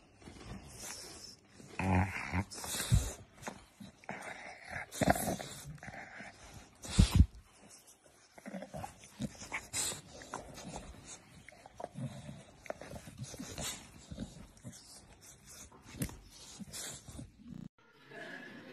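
A dog snorts and whimpers close by, with snuffling and short nasal bursts mixed with faint speech, plus one louder sharp burst near the middle.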